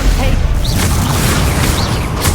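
A Stupefy stunning spell is cast in Hogwarts Legacy, giving a dense, booming magical burst and impact amid constant loud game effects, with combat voices shouting over it.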